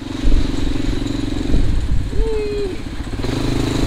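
A quad bike ATV engine in Bali idles and revs at close range with a rough, pulsing chug, and a brief rising whine partway through.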